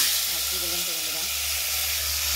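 Cumin seeds and cut potatoes frying in hot oil give a loud, steady sizzling hiss throughout, with a brief murmur of voice underneath.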